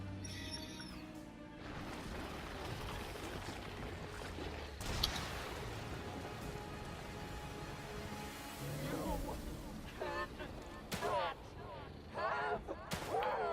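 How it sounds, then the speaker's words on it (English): Gunfire during a boss fight in the video game The Evil Within 2, with bursts of shots and impacts over a dense, noisy game soundscape of rumbling and clattering effects. "You can see I start shooting all over the place."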